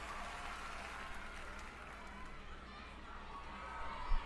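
Crowd applause and cheering at a 2020 VMA performance, a continuous roar of clapping and shouts heard at a distance, with occasional voices over it.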